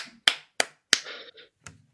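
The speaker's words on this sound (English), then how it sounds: "that's me clapping for you telling a 20-year-old joke" One person clapping hands slowly, four or five sharp, close claps spaced unevenly over a couple of seconds in an otherwise quiet room.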